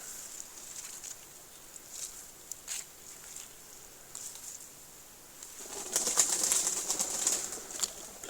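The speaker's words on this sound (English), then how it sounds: "Bloody birds." Pigeons flap their wings in a quiet churchyard, a faint patter of wingbeats building into a louder flurry near the end, with no voices.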